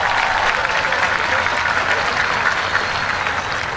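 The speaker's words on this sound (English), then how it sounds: "Let's give them a nice round of applause." A large stadium crowd claps for students at a Coffee County School System commencement, producing close, dense and continuous applause that tapers only slightly toward the end.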